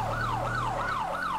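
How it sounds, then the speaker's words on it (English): A police SUV siren, a Dodge Durango in GTA 5 LSPDFR, wails in a fast repeating rise-and-fall sweep, loud and close over a low engine rumble. "Switch over to that power call sounding siren."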